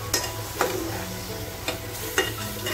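Chicken pieces with potato and carrot being sautéed in a pan for a home-style chicken stew, a steady close sizzle broken by a few sharp scrapes of the stirring spoon against the pan.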